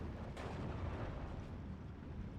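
Artillery fire from a German IG-18 infantry gun in the wartime strategy game Steel Division, heard as a dense, continuous rumble of distant blasts with one sharper burst early on, steady and loud throughout with no voices.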